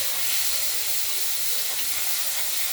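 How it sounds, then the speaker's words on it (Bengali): Cut potatoes sizzle in hot oil with chilli, cumin and bay leaves, giving a constant bright hiss that stays even and close throughout, with no voices. "আর তেজপাতা দিয়ে আমরা কেটে রাখা আলুগুলো ভেজে নেব"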